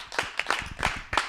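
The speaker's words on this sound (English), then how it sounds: "Big round of applause for everybody." Comedy club audience at a geek-themed stand-up show gives a short round of applause, a few sparse, distinct claps from a small crowd over about a second.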